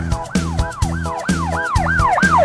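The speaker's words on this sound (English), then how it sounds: "police car" A police siren wails in rapid repeating up-and-down sweeps, loud and close, with no talking.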